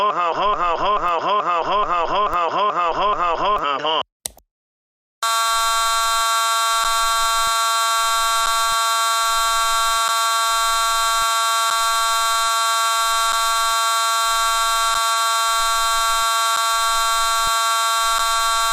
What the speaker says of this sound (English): am going to pull the fire alarm.